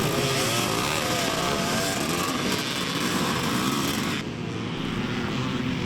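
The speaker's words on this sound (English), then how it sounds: "Number 88 there is Brian Allardyce on the big 500 KTM 2-stroke machine." A big 500 KTM two-stroke trials motorcycle revs and labours through mud at a Scottish twinshock and evolution trials event, a continuous raspy engine drone with throttle blips, fairly loud and close, with no talk.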